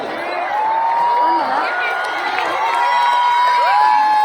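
Loud crowd cheering and whooping at a political rally in Govandi, with shouting voices sustained throughout and little distinct clapping.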